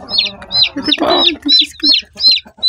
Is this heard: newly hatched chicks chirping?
yes